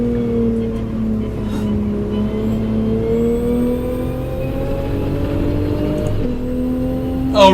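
Toyota race car engine in Gran Turismo, Toyota Gazoo GT Cup race at the Nürburgring sprint, holding a steady high drone with rising harmonic sweeps as revs climb through the gears, loud and continuous with no talk.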